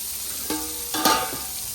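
Eel fish frying in a pan gives a steady close sizzle, with two louder bursts of crackling spitting as the pieces settle into the hot oil.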